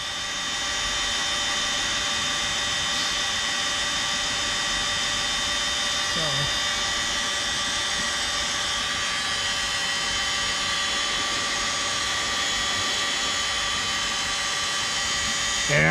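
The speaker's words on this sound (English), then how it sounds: "take your heat gun and just put a little heat to the rubber" A heat gun blows steadily while warming stiff rubber parts of a hot tub during a spa repair, giving a continuous, close whirring roar with a faint high whine that hardly changes from start to finish.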